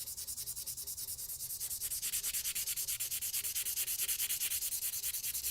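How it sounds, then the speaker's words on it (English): Pencil rubbed hard and fast over paper to transfer a drawing onto a printmaking block, a steady scratchy rasp in quick regular back-and-forth strokes, close and continuous with no talking. "I'm going to take my pencil and just rub. I'm making a rubbing."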